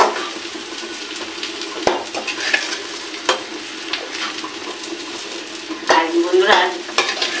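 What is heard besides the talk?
soybean chunks frying in oil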